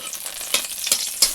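Whole garam masala spices sizzle in a hot pan for a spicy milk chicken, with a steady crackling hiss and a few sharp stirring scrapes.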